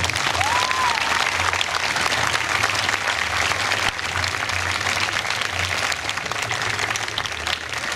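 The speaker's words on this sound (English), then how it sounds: "I think they deserve a big round of applause." Sustained applause from a large audience at a New York State Police special operations team demonstration, steady dense clapping that carries on without a break, heard from within the room.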